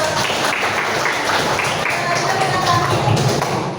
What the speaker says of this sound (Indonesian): Oke, kita beri aplaus semuanya.